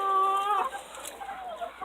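A hen in a muddy backyard poultry run gives a brief drawn-out cluck followed by softer clucking, close by and fairly clear.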